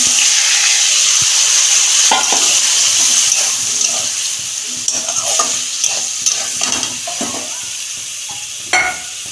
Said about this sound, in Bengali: ফোড়নটা ভাজা হয়ে গেছে আমি ফুলকপি আর আলুটা দিয়ে